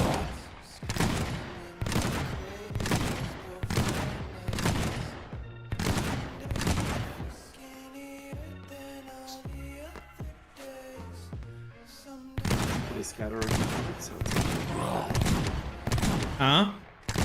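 Shotgun blasts in the video game MEGAJAM ring out as sharp, loud bursts in quick succession, with a quieter stretch midway before the firing resumes, music playing underneath.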